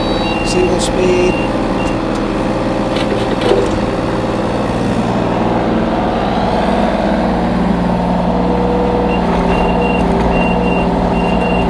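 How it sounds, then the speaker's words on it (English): A 2021 Kubota KX033-4 rubber-track mini excavator drives under its own power with a steady, loud diesel drone, while repeated reversing beeps sound and someone talks over it. "Both drive motors pull under their own power"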